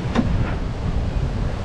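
Wind blowing across an open seaside spot on the Honnavar–Gokarna coast, a steady, loud rush with surf-like roar buffeting the microphone.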